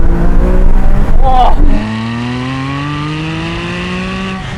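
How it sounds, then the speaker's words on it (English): A Porsche 911 GT3 RS engine revs loud and close, its pitch climbing in sharp throttle blips before settling into a steady rising drone; a voice gives a brief exclamation over it. "So let's have a listen to this engine."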